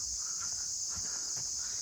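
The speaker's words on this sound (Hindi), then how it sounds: "आपको भी झींगुर या जीवों की आवाज़ आ रही होगी।" Crickets chirp in a steady, unbroken high trill at night near a temple by a small lake in the Himachal hills around Shimla, Kufri and Cheog, with faint rustles and soft low thumps underneath.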